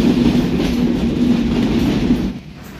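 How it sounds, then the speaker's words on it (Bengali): Chitra Express, hauled by American EMD locomotive 6639, rolls into Darshana Halt station with a loud, steady rumble, wheels clattering over the rails and a faint drawn-out tonal hum before the noise eases off. "চিত্রা এক্সপ্রেস ট্রেনটি দর্শনা হল্ট স্টেশনে প্রবেশ করলো। ট্রেনটির সাথে সংযুক্ত রয়েছে আমেরিকান ইএমডি 6639 লোকোমোটিভ।"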